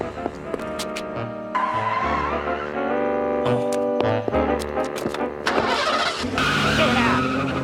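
Car speeding off with tyres skidding as kidnappers steal it in a cartoon scene: engine revs rising in stepped bursts, a squealing tone, then a broad screeching rush toward the end, with brief voice fragments between.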